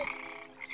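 A frog croaks in an animated Upin & Ipin cartoon episode, one short close croak standing alone without voices.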